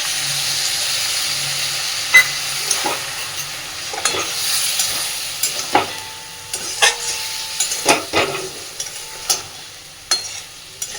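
Spice paste frying in a pan after a splash of water gives a soft steady sizzle and steam hiss. Close, sharp clinks and scrapes of stirring recur irregularly throughout, with no voices.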